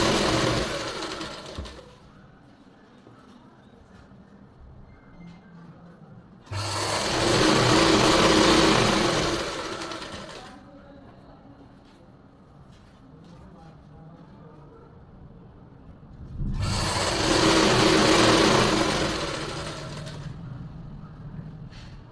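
An electric sewing machine stitching a palazzo, two long loud whirring runs of several seconds each separated by quieter pauses where a voice speaks.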